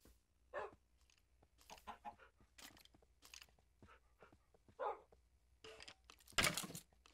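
Tamed wolves fighting a skeleton in a Minecraft-style video game, with short scattered barks, bites and crunching hits in quick irregular bursts, fairly quiet overall and ending in a louder burst.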